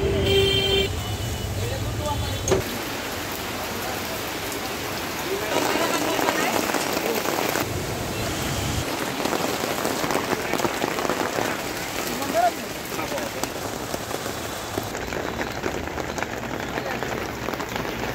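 Steady rain patters on a street in Feni, Bangladesh, a continuous wash of drops with occasional vehicle horns and passing traffic, while people talk nearby.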